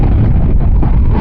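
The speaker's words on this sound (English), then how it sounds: "It's too windy." Strong gusts of desert wind at Valley of Fire buffet the microphone in a continuous, loud, low rumble for about a second.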